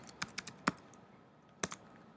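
Someone types on a computer keyboard while editing a video, making a few faint, close clicks: a quick cluster of keystrokes, a pause, then two more taps.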